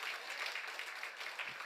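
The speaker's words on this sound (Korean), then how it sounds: "박수 한번 할까 주님께" A church congregation at a Sunday morning service claps together in a short, even burst that sounds faint and distant.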